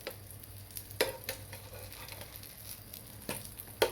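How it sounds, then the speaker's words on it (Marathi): Brinjal slices shallow-frying in a pan, turned over, give a steady low sizzle with a few sharp spatula scrapes and clinks standing out above it. "आणि परत आपल्याला तीन मिनटं आपल्याला फ्राय करून घ्यायचं आहे"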